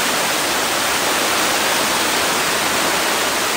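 Bantakay Falls in Quezon pours steadily in a continuous broadband roar of falling water, loud and unbroken throughout with no voices.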